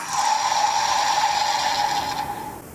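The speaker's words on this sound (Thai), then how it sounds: "นี่เป็นเสียงแปลงร่างฮะ" A sustained whirring, buzzing electronic transformation sound from a Dairenger toy transformation device holds steady for a couple of seconds before cutting off, moderately loud and alone.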